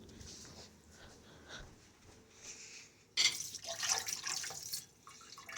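Quiet water sloshing and dripping while watering tomato plants on a farm, then a sudden louder splashing pour of excess water being tipped out that runs for a couple of seconds before easing off.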